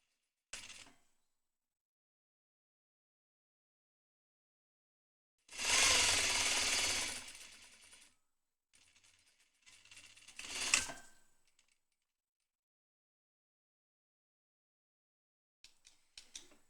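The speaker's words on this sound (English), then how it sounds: "I'm going to sew all these pieces together." Bursts of a sewing machine stitching fabric pieces of a yoke together, a loud run of a couple of seconds followed by shorter stitching spurts and quiet gaps, close by with no talk.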